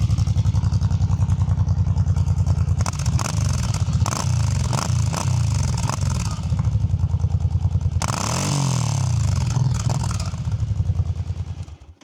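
Engine of a 2017 Suzuki Boulevard C50 cruiser motorcycle, a close, steady low throbbing idle broken by several sharp throttle blips and revs in the middle before it settles back and fades at the end.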